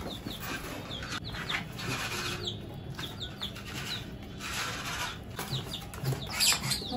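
Chickens cluck softly while feeding on wheat grain beside a larger pigeon, with bursts of bird chirps and a few wing flaps over steady low background noise.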